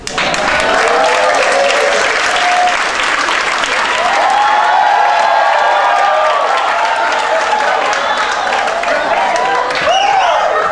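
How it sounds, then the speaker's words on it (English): Loud, dense applause from a large audience at an awards ceremony fills the room without a break, with some cheering mixed into the steady roar of clapping. "So please, let's give a big applause for Mr. Rubén"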